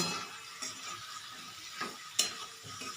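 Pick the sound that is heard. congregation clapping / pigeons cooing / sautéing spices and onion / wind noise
sautéing spices and onion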